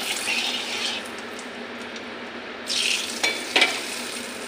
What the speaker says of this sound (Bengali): এখন আমি ভাজা করে নেব। কড়াইতে তেল দিয়েছি